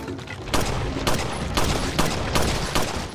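Repeated gunshots in Resident Evil 4, about six sharp broadband cracks spaced roughly half a second apart over a steady background of game ambience.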